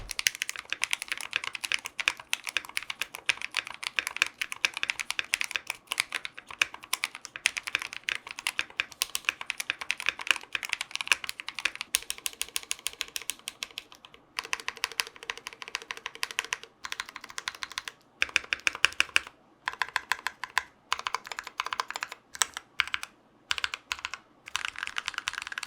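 Steady fast typing on a Drop ALT mechanical keyboard fitted with lubed Holy Panda switches and clip-in stabilizers, close-up rapid clacks with short pauses, no voices.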